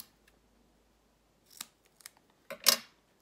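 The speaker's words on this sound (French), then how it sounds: "je coupe un morceau de ruban 3D que je pose au dos" Scissors snip a piece of 3D ribbon for a craft embellishment: a few short, crisp cuts close by, the last pair loudest, separated by quiet pauses.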